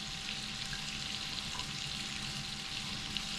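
Fish frying in butter in a pan gives a steady, continuous sizzle that holds evenly throughout and stays close, with no talking.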